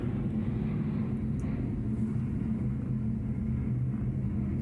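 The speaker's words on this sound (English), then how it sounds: "Here's another plane for you." A low, steady rumble of an airplane flying over near an airport fills the scene, continuous and fairly loud throughout with no voices.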